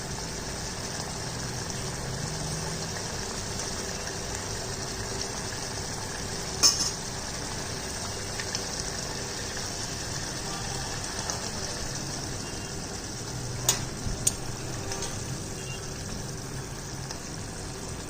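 Andhra-style sambar with okra and onion bubbles in a pot, a low, steady simmering hiss with a few faint clinks, close and quiet with no talking.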